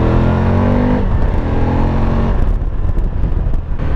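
Suzuki V-Strom 1000 XT motorcycle engine revving up through the rev range, a loud, close throaty drone that rises and then roughens as the revs climb, with no talking.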